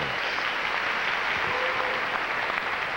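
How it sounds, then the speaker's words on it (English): Sustained applause from a pageant audience honoring the judges at the Miss Texas USA 2000 competition, a dense, even wash of clapping from a large crowd, heard without talk. "let's have a nice round of applause for all of our distinguished judges and for our auditors"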